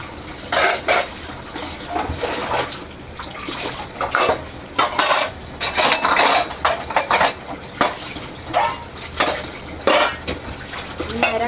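Dishes and pots clatter and clink in bursts, metal and ceramic knocking together in a sink with some running water between.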